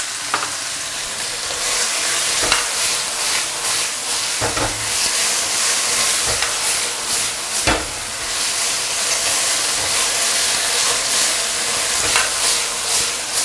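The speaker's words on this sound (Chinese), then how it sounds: "快速去翻炒它， 放入我们调的碗芡，快速倒进去" Shredded pork stir-fried in a hot wok with horse-ear scallions and xuepi greens as a mixed sauce is poured in; a loud, steady sizzle and hiss continue throughout, punctuated by sharp scrapes and clanks of the spatula.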